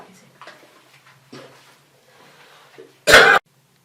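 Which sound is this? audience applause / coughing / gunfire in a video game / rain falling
coughing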